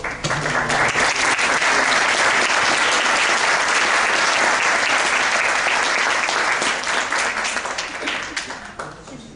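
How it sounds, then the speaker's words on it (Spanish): A university lecture audience applauds to welcome the guest lecturer with full, loud, sustained clapping. It holds steady for about eight seconds, then tapers off at the end. "Quiero pues que recibamos a nuestro destacado conferencista con un aplauso"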